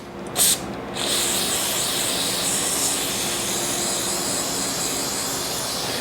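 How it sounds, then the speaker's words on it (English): A short burst of spray, then a long, steady hiss of an aerosol cleaner can spraying continuously up close. "I'm just going to start spraying"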